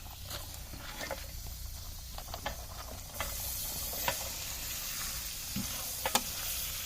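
Carrots, tomatoes, potatoes and beans frying in a large pot for a big batch of vegetable pulao, a soft continuous sizzle with scattered crackles and a few stirring scrapes, fairly quiet and without talk.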